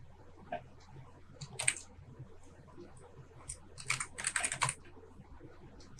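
A username being typed on a computer keyboard: bursts of crisp key clicks, a short cluster then a rapid flurry of taps after a pause, close and fairly quiet with no voice.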